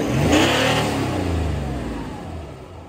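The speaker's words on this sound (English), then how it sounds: "we'll rev it up and we'll have a listen, see what it sounds like" A Toyota LC300 with a 3.5-inch stainless steel DPF-back exhaust revs up once, a close throaty surge that peaks quickly and then settles back toward idle.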